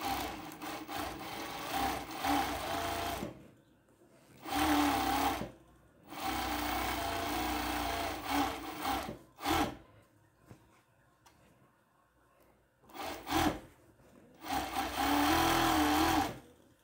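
A sewing machine stitches sleeves onto a made-to-measure long dress, running in several loud bursts of rapid mechanical chatter separated by short quiet gaps while the fabric is repositioned.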